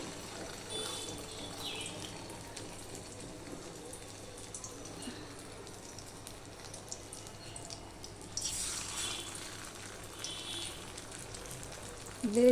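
Small poppy seed fritters (posto bora) fry in oil, producing a soft, even bubbling hiss with faint crackles that swells slightly near the end, fairly quiet and steady throughout.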